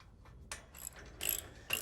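Bolts being fastened as the bumper and frame supports go onto a 1966 Ford Bronco, heard as faint, scattered ratcheting clicks and short metallic bursts over a quiet background.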